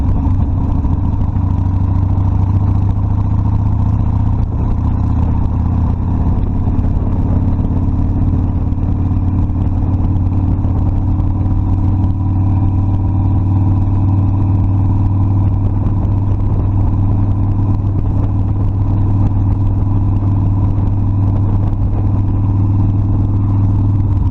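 Harley-Davidson Sportster Custom 1200 motorcycle being ridden, its V-twin engine a steady loud low rumble held throughout with constant wind-like noise on top.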